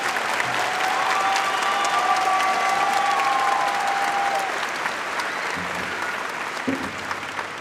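A large commencement audience at the Santander Arena applauds teachers, counselors and support staff, a broad sustained wave of clapping with faint cheers that slowly thins out toward the end.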